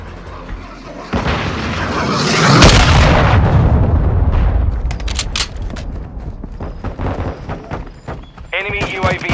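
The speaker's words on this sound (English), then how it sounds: "Hostiles launched a cruise missile." Cruise missile explosions in Call of Duty multiplayer, a loud roaring impact swelling into a heavy boom with a long rumbling decay, followed by scattered sharp gunfire cracks and other game sounds.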